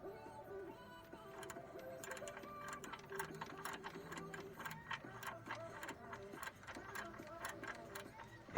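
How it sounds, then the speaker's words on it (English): Wrench or ratchet working a front differential bolt on a 2003 Chevy Tahoe 5.3 LM7, rapid repetitive clicking and ratcheting in a steady rhythm, close up, with faint voice in the background. "Here I'm undoing one of the bolts for the front differential."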